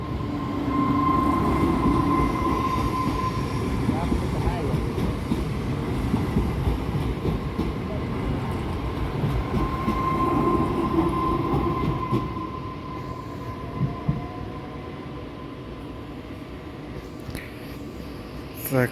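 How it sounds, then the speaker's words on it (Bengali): Passenger and freight trains pass close by at a rail crossing, a long continuous rumble of wheels on track with a steady tonal hum, easing slightly toward the end and clearly dominating the scene. "তিনটা ট্রেনের পিছনে পড়ছিলাম, একটা যাত্রীবাহী ট্রেন, আর একটা হচ্ছে মালবাহী ট্রেন"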